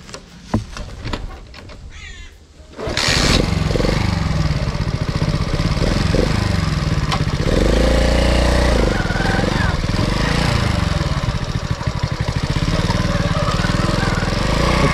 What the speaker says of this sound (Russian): Насколько приятный мопед.